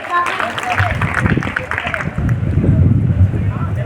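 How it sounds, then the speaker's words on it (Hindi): An audience claps loudly for a small boy playing young Bhagat Singh in a short stage play about Bhagat Singh, Rajguru and Sukhdev. The applause is dense and continuous, swelling toward the end, with voices mixed in. "जोरदार तालियां होनी चाहिए"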